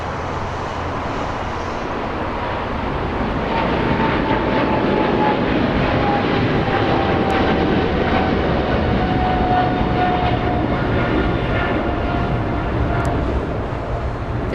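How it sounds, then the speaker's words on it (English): A Boeing 777-300ER with GE90 engines at Los Angeles International Airport, a loud sustained jet roar that builds slightly and holds, with a whining engine tone sliding through it and no talking. "We have that roar of the engines in front of our cameras."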